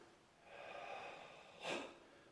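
A sharp exhaled breath during a taekwondo Chil Sung Sam Ro form, one short forceful burst near the end, fairly close and alone over a quiet room.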